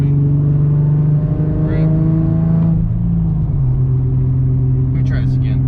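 A Nissan G37/370Z with an ISR single exit exhaust drops a gear at about 55 mph in morning traffic, its deep droning engine note shifting pitch partway through, with someone speaking briefly over it.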